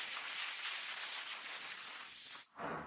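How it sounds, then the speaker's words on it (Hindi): Steam hisses steadily from a pressure cooker cooking dal on a gas stove, a loud continuous spray-like rush that dips briefly near the end before resuming. "यहाँ पर कुकर का प्रेशर निकल गया है।"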